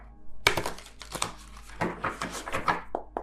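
A deck of tarot cards being shuffled by hand, quick papery riffles and taps in a close, quiet room with no talking.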